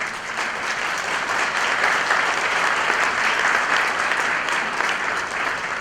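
Audience at a Shri Guru Bhagavat Day gathering in King County clapping steadily, a dense sustained wash of applause from a crowd, fairly even in loudness throughout.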